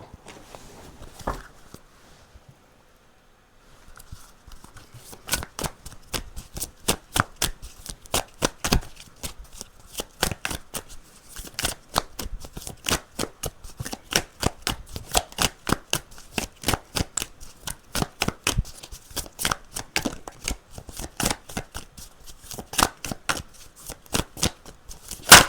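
A deck of tarot cards is shuffled, one quiet pause early on, then a long, steady run of close, crisp riffling snaps that continues to the end.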